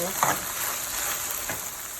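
Ground beef frying in a pan with soy sauce, giving a steady close sizzle with a couple of soft stirring scrapes and no speech.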